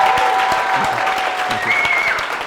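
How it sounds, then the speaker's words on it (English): A studio audience at a late-night talk show applauds for a guest, a steady, full round of clapping throughout with little else over it. "Big round of applause for Frenchi, everyone"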